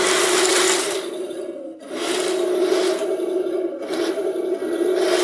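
A Henglong 1:16 scale RC Russian KV1 tank drives along, its motors giving a steady close whine with a gritty rasp and scraping texture, dipping briefly twice, with no voices.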